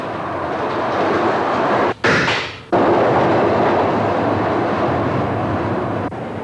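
A North East Travelling Post Office mail train runs past at night near Newcastle Station, a loud steady rumble of rail noise and wagons with a brief dip partway through, continuous and close.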